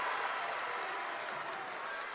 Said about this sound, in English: A sea of red standing up and cheering